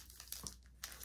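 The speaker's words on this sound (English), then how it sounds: "you just peel off the strip so the adhesive is exposed" An adhesive backing strip is peeled off a packaging strip while preparing a watercolor painting for delivery, giving a brief, quiet crinkling and tearing of thin film with a few soft crackles and no voices.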